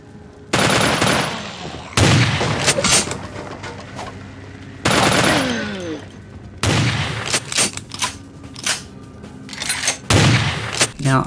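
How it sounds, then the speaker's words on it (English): Uzi bursts in the video game Vampire: The Masquerade, fired at long range inside the Hotel Hollowbrook, coming in several sharp rattling volleys separated by short pauses, with a voice talking between them. "This Uzi is working really well at long distance"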